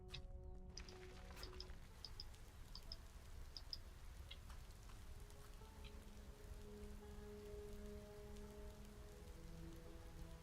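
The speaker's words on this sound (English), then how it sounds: "Oh, it's raining outside." Rain falls outside, a faint, steady patter and drip heard from indoors, low and continuous beneath a quiet background hum with a few scattered ticks.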